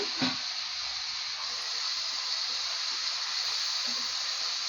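Chopped tomatoes and onions sauté in a pan for paneer burji, giving a steady even sizzle and hiss throughout with a few faint stirring knocks, no talking.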